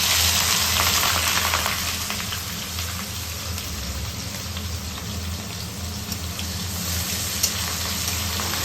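Loud, continuous sizzle of onions frying in oil in a pan, close up and steady, with faint clinks and no voices.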